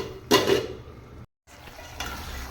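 A spoon stirs tamarind brinjal curry in a pan, giving a short scraping, clattering burst with a soft sizzle, then a brief pause and further quieter stirring noises.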